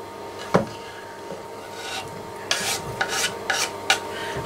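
Cauliflower pieces tumble into a hot pan and get stirred, with a sharp knock, then several scraping, rustling stirs and brief sizzles close up, no one speaking.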